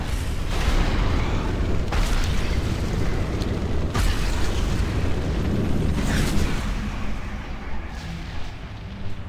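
Bombardment explosions in World of Warcraft Legion: a loud, continuous rumbling barrage with heavy booms bursting at intervals, thundering on without pause and easing slightly near the end.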